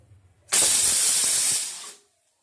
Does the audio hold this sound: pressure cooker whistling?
yes